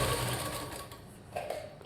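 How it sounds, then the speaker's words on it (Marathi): A sewing machine topstitches a puff sleeve with a steady, close, mechanical whir that eases slightly partway through, with a couple of small bumps near the end. "त्याच्यावरती आपण दाबटीप देऊन घ्यायची आहे."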